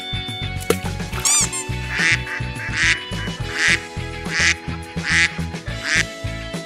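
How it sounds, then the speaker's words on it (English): Duck quacking in a rapid series of about six loud, nasal quacks at a steady rhythm, close and clear. "Mother duck."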